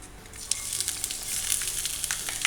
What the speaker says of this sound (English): Now the mustard seeds are spluttering.